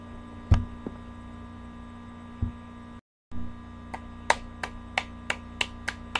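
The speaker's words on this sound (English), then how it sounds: "The reason why I'm clapping already" A single person claps hands sharply, a few scattered claps at first and then a quick steady run of about seven, close and crisp over a constant low electrical hum, with a brief dropout of sound partway through.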